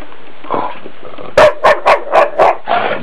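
A dog barks loudly and close, giving a burst of five sharp, evenly spaced barks after a few softer whimpers and growls at first.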